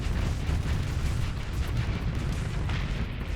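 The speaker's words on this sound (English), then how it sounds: "The thing is, the thermal pulse cannon on this thing is good enough." A thermal pulse cannon fires in the Starsector space combat game, a dense, continuous roar of rapid booming blasts that stays loud and unbroken throughout.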